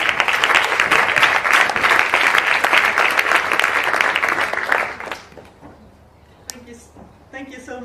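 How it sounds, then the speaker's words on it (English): An audience at a climate event bursts into loud, dense applause that carries steadily for about five seconds, then fades to scattered claps and a few voices as a speaker comes on. "big round of applause."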